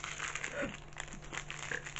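A plastic bag holding bubblegum sweets shaped like gold nuggets crinkles and crackles in close, irregular handling bursts, with a faint voice briefly in the background.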